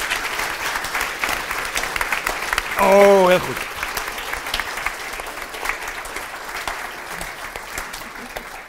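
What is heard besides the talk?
audience applause for the National Ombudsman at a lecture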